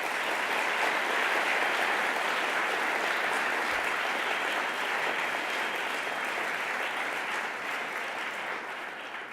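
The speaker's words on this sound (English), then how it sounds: "Let's have a round of applause for all of our panelists today." Steady, dense applause from a conference audience for a panel, continuous and full throughout before slowly tapering near the end.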